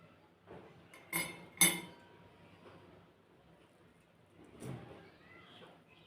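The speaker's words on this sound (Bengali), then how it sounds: "একটি কাঁটা চামচ দিয়ে আপনাদেরকে দেখাচ্ছি চিকেনগুলো কতটা ক্রিস্পি হয়েছে।" A metal fork presses into crispy homemade KFC-style fried chicken, giving a few faint, sharp crunchy clicks and scrapes against a quiet background.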